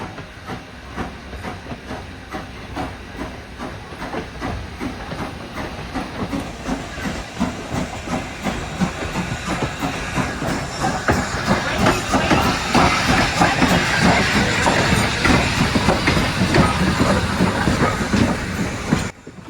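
A locomotive numbered 210-0 uncouples and moves off to the front of the train, a loud rhythmic clatter and hiss building steadily in strength, close by and without voices.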